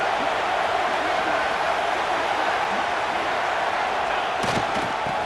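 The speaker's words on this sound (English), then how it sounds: "The crowd really making some noise now, trying to help out this defense to get this stop near the goal line." A steady, dense roar of the stadium crowd in EA Sports College Football 26 fills the scene near the goal line, loud and continuous, with a few faint thuds near the end.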